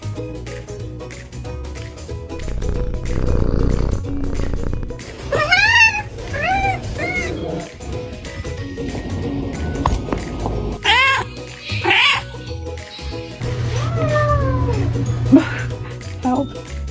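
A pet cat meows repeatedly in short rising and falling calls, close and clear, between stretches of low, rumbling purring.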